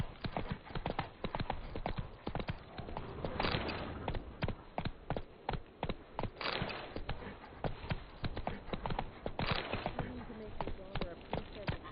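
Hooves of the horse Roach clip-clop in a steady, rapid galloping rhythm across the whole stretch in The Witcher 3, close and clear, with occasional louder surges and faint speech underneath.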